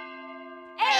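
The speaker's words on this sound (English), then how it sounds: "The clock makes sounds when it chimes the hour." A single clear, ringing chime from a cartoon clock striking the hour, sustained and even for most of a second before a brighter, noisier clang cuts in at the end.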